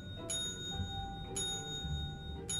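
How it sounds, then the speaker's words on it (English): Bell ringing in the video game Luigi's Mansion 3, three bright metallic strikes about a second apart, each with a ringing tone that lingers over a low steady background hum. "Is it just keep ringing the bell?"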